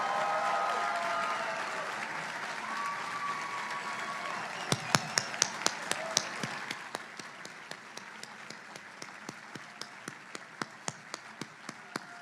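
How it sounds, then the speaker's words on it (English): A large crowd at a graduation ceremony applauds, at first as a dense wash of clapping, then thinning to scattered individual claps that fade out. "Let's give everybody another round of applause."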